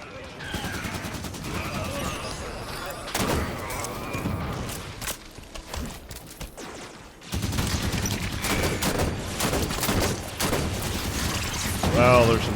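Automatic turret fire in Halo 5: Guardians, bursts of rapid mechanical shots with clattering gunfire running through most of the clip, loudest in the second half, under game sounds and some voices.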